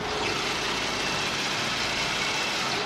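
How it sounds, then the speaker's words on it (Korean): A gasoline car engine idles steadily and smoothly with the hood open, a constant close hum with no other sounds. "영상으로 엔진 소음 한번 담아보도록 하겠습니다"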